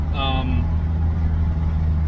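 A Lexus LS460 engine with ground-down exhaust flanges idles with a steady, close, deep rumble throughout, and a brief high tone rises over it near the start.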